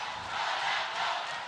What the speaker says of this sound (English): Can you hear the crowd? They are roaring here at Mubadala.